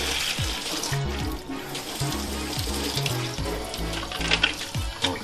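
Filter from a Tineco iFloor One S3 cordless hard floor cleaner swirled and rinsed under a running tap in a sink, a steady loud rush of water with knocking and splashing throughout.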